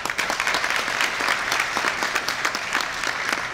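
An audience at an evening graduation and scholarship ceremony claps steadily, a dense, continuous wash of applause that stays loud and even throughout without any voices on top.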